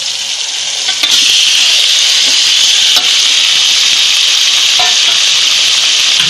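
Marinated chicken, coated in garlic and coriander paste, salt and garam masala, hits a hot pan on high flame for Malvani chicken curry, giving a loud, steady hiss of sizzling with occasional stirring clinks.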